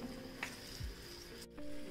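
Ginger and garlic hit hot oil in a pan, a quiet, fairly faint sizzle with a brief clatter partway through while preparing chicken khada masala.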